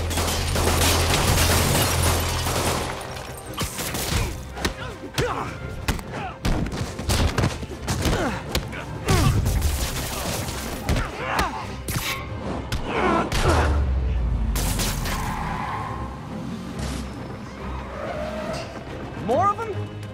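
Rapid bursts of gunfire from criminals shooting at Spider-Man in the PlayStation 4 game Marvel's Spider-Man, loud and close, mixed with impacts, engine and skid noises and shouting voices.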